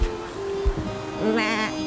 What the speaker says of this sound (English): As luck should have it, we're in the heart of sheep country. Sheep.